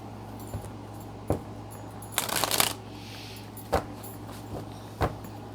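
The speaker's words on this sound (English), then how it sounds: "Let's get some cards from the emotional intelligence deck." Cards from an emotional intelligence deck being shuffled and drawn, a broadband riffling burst in the middle with a few soft separate flicks and taps before and after, close and alone.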